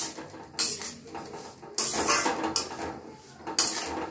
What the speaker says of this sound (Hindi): अब इसे हम अच्छे से मिला लेंगे